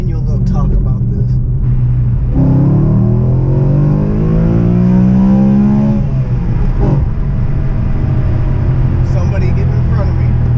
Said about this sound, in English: We can get some of this good old V8 engine noise going, hop on the highway